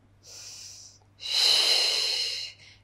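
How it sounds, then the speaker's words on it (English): Two loud, breathy exhalations during a Pilates mat workout, a shorter puff followed by a longer, stronger push of air, close and with no speech, over a faint steady hum. "Inhale, exhale."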